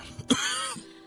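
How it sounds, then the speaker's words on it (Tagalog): A single short, harsh cough with a throaty rasp, close and fairly loud, no talking. "huwag mo nang pigilan niyang ubo mo"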